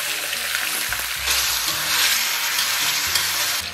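Pork belly stir-fries in hot oil in a wok with a loud, continuous sizzle and crackle, punctuated by the scrape and clatter of the spatula tossing the meat.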